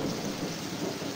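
Thunder rumbles through a heavy downpour at night near a hotel, a dense, steady roar of rain and storm with no pause and no voices.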